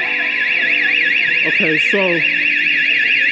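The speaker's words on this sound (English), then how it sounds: "I think I've triggered the alarm." A building alarm in a citadel in Gozo, Malta, blares continuously with a loud warbling siren tone throughout, while someone speaks briefly over it.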